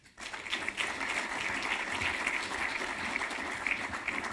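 An audience at a colloquium on climate change and forests claps for two guest speakers, a burst that rises within a moment into steady, full applause from many hands, close and continuous.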